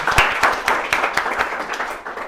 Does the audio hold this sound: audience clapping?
yes